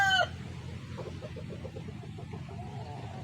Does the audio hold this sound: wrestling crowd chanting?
no